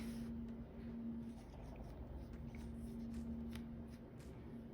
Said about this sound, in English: I'm gonna trim this photo to be 4 inches by 4 inches